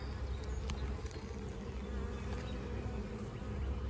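Many honey bees buzz in a steady, continuous drone while nucleus colonies are made up, close and enveloping, with a few individual bees passing nearer.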